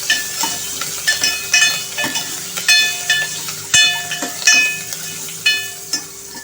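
Drumstick pieces sauté in oil with curry leaves for Madras-style sambar, a loud, close sizzle with rhythmic stirring scrapes repeating roughly every half second, over a faint steady hum.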